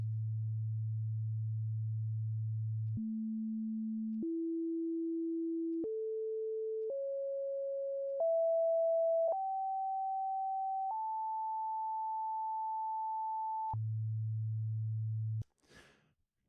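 Pure sine tones from the overtone series sound one at a time, each higher pitch stepping up and holding for a second or two, climbing to a long top tone before the low fundamental returns alone.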